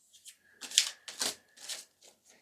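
Tarot cards are shuffled near the listener in a few short, crisp riffling bursts, each a quick papery flutter separated by brief pauses.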